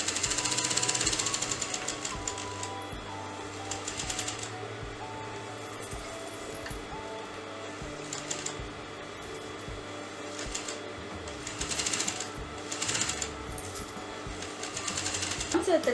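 A sewing machine stitches a half collar neck, its rapid mechanical chatter running in close, loud bursts with brief slowdowns and a final surge at the end.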